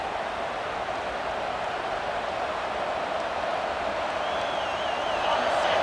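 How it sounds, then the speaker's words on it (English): A home football stadium crowd roars steadily during a third-down play, a dense, sustained wash of distant cheering and noise that builds slightly toward the end. "Here comes this home crowd as the defense tries to get off the field on third down."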